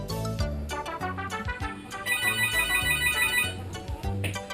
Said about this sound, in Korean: 촬영 기간 동안 6시에서 7시 사이면 어김없이 전화가 걸려왔는데요